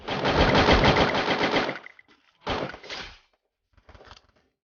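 Automatic gunfire in the Free Fire mobile battle royale game: a loud, sustained rapid-fire burst, then a shorter burst, then a brief faint final volley.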